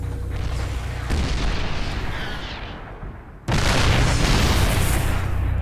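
Heavy booming artillery from siege tanks shelling Protoss cannons in StarCraft 2, a loud, dense wash of explosions that dips briefly and then resumes with a sharp new blast.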